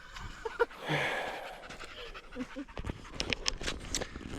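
Dogs pant close by during a spring countryside walk through the Lithuanian woods, rapid breathy puffs running throughout alongside a few faint whimpers and rustling steps.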